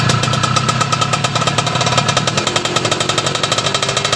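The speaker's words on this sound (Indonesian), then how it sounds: "Coba gas Pak Kecerut." A Yamaha F1ZR two-stroke motorcycle engine runs steadily up close with a rapid, buzzing, rattling pulse, held at a fairly constant loud level throughout with no clear rise or fall.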